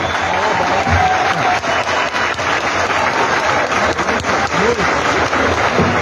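Crowd at a Minas Gerais government event in Ubá applauding a protester, loud sustained clapping mixed with crowd voices and scattered cheers.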